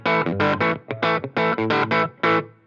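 Electric guitar through a 5E3 Tweed Deluxe amp on the normal channel with a darker tone, a run of separate plucked notes and chords, loud, close and slightly gritty, with short gaps between them.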